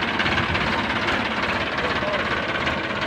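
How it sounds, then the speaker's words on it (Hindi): Swaraj 744 XT 2022 model tractor engine running, a steady, close diesel rumble with a constant throbbing texture and no change in pace across the whole stretch. "मैंने ट्रैक्टर स्टार्ट हो गया है"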